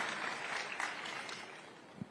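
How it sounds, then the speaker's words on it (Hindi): An audience applauds to welcome Chirag Paswan, Union Minister of Food Processing Industries, at a televised Aaj Tak event. A brief, dense burst of clapping holds steady, then thins toward the end. "जोरदार तालियों से स्वागत कीजिए"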